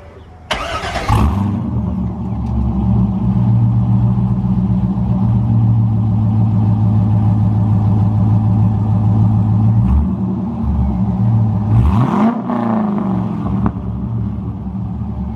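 A Chevrolet Corvette C5 with a new starter cranks briefly, then its V8 catches and settles into a loud, steady idle, close by. A short blip and a faint whine come near the end before it returns to idling.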